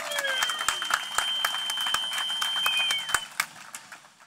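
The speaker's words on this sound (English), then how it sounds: "Please give her another big round of applause." An audience at an evening event claps in a steady burst of dense applause that tapers off into scattered individual claps, heard nearby and fairly loud.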